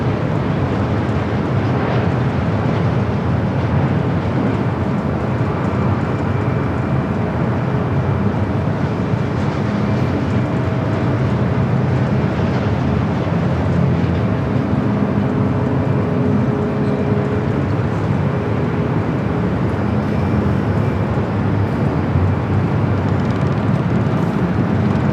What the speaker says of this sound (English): Delta E321 Neo up next. Flight coming in from Minneapolis.